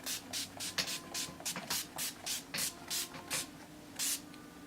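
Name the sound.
Urban Decay All Nighter setting spray being sprayed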